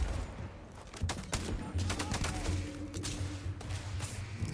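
Gunfire in the video game Starfield, sharp shots in quick bursts over a low rumbling background, loud and near with no talk over it.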